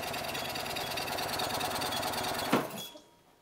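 A golf cart's small engine runs with a fast, even mechanical chatter for nearly three seconds, gives a brief louder burst, then shuts off and fades to quiet.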